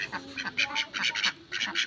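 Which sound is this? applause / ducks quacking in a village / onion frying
ducks quacking in a village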